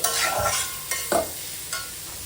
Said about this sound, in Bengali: পাতাকপির সাথে আবারও ভালোভাবে নেড়ে চেড়ে কষিয়ে নেব।